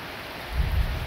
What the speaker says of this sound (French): Ah, là ça va bien pleuvoir là.